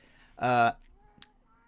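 A house cat lets out one loud, drawn-out meow close by, followed by a faint short sound and quiet room tone.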